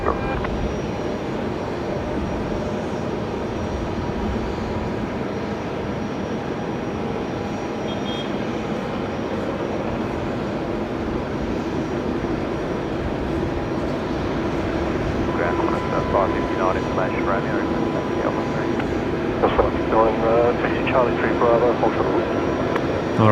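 An A350-900 airliner landing at Brisbane Airport gives a steady, fairly distant jet engine rumble that holds throughout, while people talk over it the whole time.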